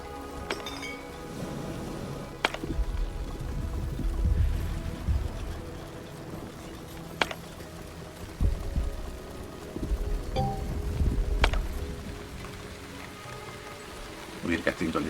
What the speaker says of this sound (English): We're getting a little rained on.